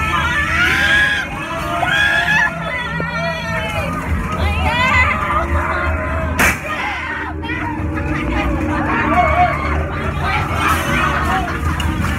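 Riders scream and shriek on a horror booth ride at a fair, with high voices rising over steady crowd chatter and din for the whole stretch, plus one sharp bang midway.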